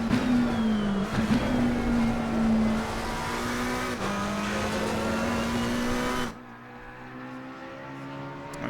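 A McLaren 720S GT race car in Assetto Corsa Competizione at Mount Panorama screams along a lap, a loud steady high engine note with gear shifts, then abruptly drops to a lower, quieter drone.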